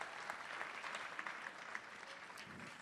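An audience at the Best Model of the World 2017 contest applauds, a soft, steady patter of many hands clapping heard from a distance, with no voices over it.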